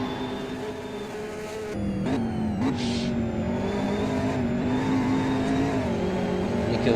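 A race car's engine drones steadily, its note climbing and dipping as it laps a circuit, loud and sustained with brief shifts in pitch throughout.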